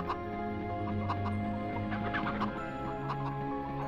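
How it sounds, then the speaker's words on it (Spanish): Chickens cluck repeatedly in the PS1 game MediEvil, short choppy calls scattered over a steady, tonal in-game background. "ahora lo que hacemos es espantar a los pollos"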